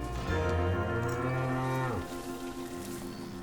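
Cattle on a desert oasis ranch moo in one long, loud, close call that holds steady then drops off sharply about two seconds in, leaving quieter low farm background.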